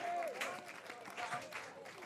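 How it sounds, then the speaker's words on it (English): Crowd applause erupts at a U23 men's softball game between New Zealand and Australia, a broad clapping wash that swells and fades in waves across two seconds, with commentators' voices mixed in. "Tani and Moo-Moo, the crowd applause, and he deserves it"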